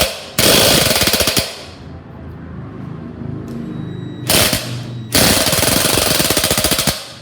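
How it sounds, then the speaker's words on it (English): Impact wrench hammering a nut tight on a barn-find Baja Warrior minibike, two loud rattling bursts, the longer one near the end, separated by a quieter stretch. "Now tighten that nut back up with the impact."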